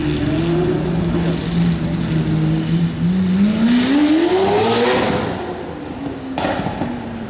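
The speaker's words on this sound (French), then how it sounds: "Waouh, l'échappement il n'est pas d'origine là." A sports car with an aftermarket exhaust in Monaco, likely an Aston Martin Valkyrie, revs loudly and close, its engine note dropping and then climbing sharply before easing off, with a sharp burst near the end.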